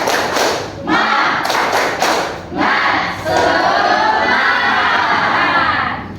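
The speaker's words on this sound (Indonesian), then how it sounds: "Ayo, tepuk semangat." A classroom of students does a rhythmic spirit clap during a lesson. Loud, close thumping claps come in short bursts, then swell into a sustained chorus of shouting voices.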